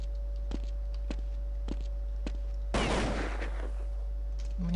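A single loud burst of video game gunfire erupts partway through, sharp and dense, with a few faint ticks and clicks on either side over a steady low hum.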